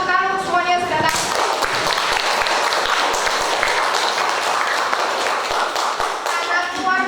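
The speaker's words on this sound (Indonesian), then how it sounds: "boleh tepuk tangan untuk semuanya yang sudah datang" A classroom audience at an open sociology class bursts into sustained clapping after a brief voice, the dense applause holding loud and even for several seconds before easing slightly at the end.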